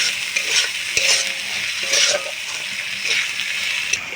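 Ginger, cumin and chili paste masala fries in a kadai for a katla fish mustard-poppy curry, a close sizzling hiss with rhythmic spatula stirring strokes roughly once a second.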